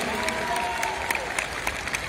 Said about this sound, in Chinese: 现场球朋友先给我们陈子宏一个掌声鼓励好吗